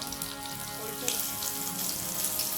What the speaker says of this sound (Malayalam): വെളുത്തുള്ളി നല്ല മൊരിയുന്നുണ്ട്. അപ്പോൾ അതിൻ്റെ കൂടെ ഉണക്കമുളകും കൂടെ ഇട്ട് കൊടുക്കുന്നുണ്ട്.